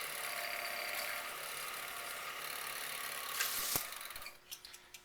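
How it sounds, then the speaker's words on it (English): Skew chisel shaving a wooden duck call spinning on a lathe, a steady soft hiss of cutting with the lathe's faint hum, then a brief louder scrape before it tapers into a few light clicks and knocks. "I'm going to take and finish that with my skew where I can get more of an even cut"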